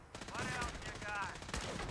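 Gunfire crackles in Fallout 4 survival play, several shots in quick, uneven bursts, moderately loud, over a steady background din with a little voice mixed in.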